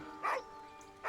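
A dog in Baldur's Gate 3 lets out two separate barks about a second apart. They sound fairly close and clear above a quiet background of faint game ambience.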